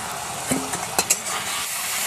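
Chicken for village-style pakora sizzles in a pan while a utensil stirs it, with a few distinct metallic scrapes and clicks over a steady, soft frying hiss.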